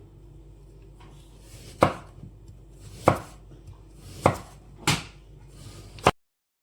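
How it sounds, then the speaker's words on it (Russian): Carrots chopped into large pieces with a knife on a cutting board, five sharp, evenly spaced chops about a second apart, close and fairly loud over a quiet room. "Нарезаем морковь крупными кусочками и отправляем в наш казан."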